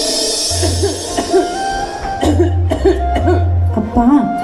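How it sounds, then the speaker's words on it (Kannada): A man coughs hard several times in a row, close and loud, with short rasping bursts and brief throat sounds between them. "ಕೆಮ್ಮುವಾಗ ಮಾಸ್ಕ್ ಹಾಕೊಳ್ಳಿ ಅಂತ"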